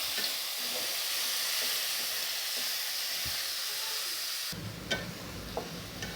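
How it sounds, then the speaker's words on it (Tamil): Onions and two medium tomatoes stir-fried in a pan for a Tamil brinjal and potato curry, giving a steady broadband sizzle with occasional spoon scrapes; the sizzle drops near the end as the tomatoes go in, followed by a few clinks. "ரெண்டு மீடியம் சைஸ் தக்காளி அதையும் போட்டு நல்லா கலரி விட்டுக்கலாம்"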